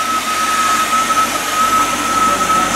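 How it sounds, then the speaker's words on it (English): The exhaust of a 1984 Chevy C10 pickup with an LS engine swap, running at a steady idle: a loud, close, continuous rushing drone with no break and no talk over it. "See the exhaust here? Sounds pretty good, eh?"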